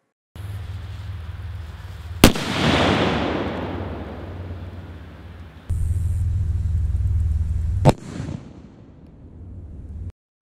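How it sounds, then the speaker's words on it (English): A quarter stick firework explodes on a wooden block, a sharp loud blast followed by a rumbling decay, with a second sharp crack later over steady low background rumble. "The quarter stick exploded with enough force to generate a fragmentation pattern onto the block."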